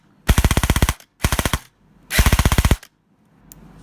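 An airsoft gun fitted with a micro switch fires in full auto, giving three loud, close bursts of rapid mechanical clatter, short pauses between them, then quiet.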